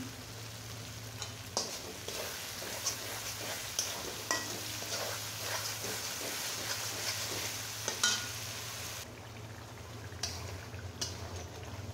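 Spiced masala for a meat curry sautéing in oil in a pan, with a steady low sizzle and irregular scraping stirs of a spoon, moderately close and without talk.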